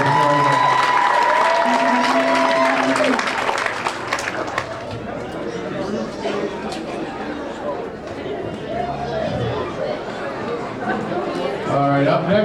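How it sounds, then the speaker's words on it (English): Audience applause at a high school jazz band fish fry concert, opening over the last sustained notes of the band and then continuing as clapping mixed with crowd chatter and voices. "Round of applause for her."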